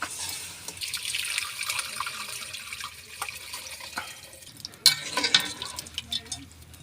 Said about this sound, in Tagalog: So ato na ning butangan og gata.